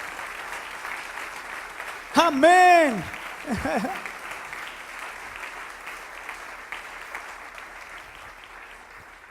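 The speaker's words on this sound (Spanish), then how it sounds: "¿Puedes darle un aplauso al Señor? Yo le daría un aplauso." Brief burst of congregational applause in a church sermon rises around a spoken exclamation, then thins out under continuing room noise and the preacher's voice.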